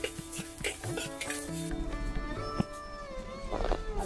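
Coriander seeds and dried chillies dry-roasting in a pan, a batch of about a kilo stirred with soft scraping and rustling over a low hum, with a sharp knock partway through and steady background noise.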